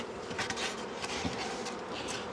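Honeybees in a Connecticut hive prepared for winter give off a dense, continuous buzzing after the hive is shaken or tapped, steady and fairly close with no voices.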